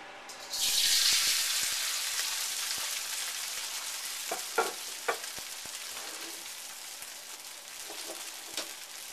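Oil bursts into a loud sizzle in a wok while thin noodles are pan-fried for Hong Kong style Cantonese chow mein. The hiss then settles to a steady crackle, broken by a few sharp scrapes and clicks of stirring.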